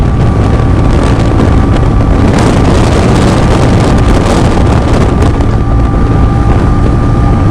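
Loud, steady wind roar buffeting the microphone while riding a TVS Ronin motorcycle, constant rushing noise over a low engine drone throughout.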